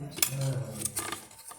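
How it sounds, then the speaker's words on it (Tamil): A knife cuts on a hard surface, a few quick close metallic taps and scrapes with a faint voice in the background. "பாருங்க, கட் பண்ணுறேன்."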